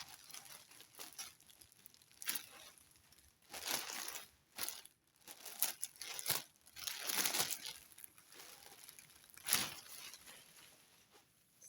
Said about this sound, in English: let's now remove it from the plastic